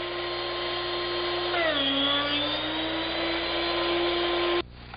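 A Drill Doctor drill bit sharpener runs with a steady motorized whine, its pitch shifting as the bit grinds against it, running continuously before abruptly cutting off near the end.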